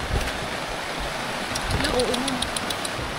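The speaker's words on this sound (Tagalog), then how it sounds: "Lumakas ang ulan." Heavy rain beats on a camp tent, making a dense, continuous hiss close by, with a voice speaking briefly over it.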